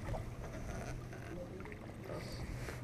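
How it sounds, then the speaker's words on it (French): Open canoe paddled gently on the calm Scarpe river with a light crosswind, soft watery swishes and faint paddle strokes under steady wind noise, quiet and close. "Donc on pagayait tranquillement sur des eaux calmes."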